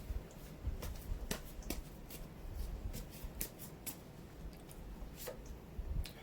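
Tarot cards being shuffled and drawn from a deck, giving soft repeated papery flicks and snaps at close range, fairly quiet with no talking.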